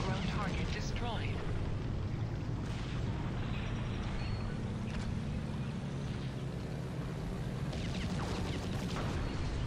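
A ground target blown up in the arcade aerial combat game Air Attack VR, a broad rumbling blast under steady aircraft engine roar at full throttle.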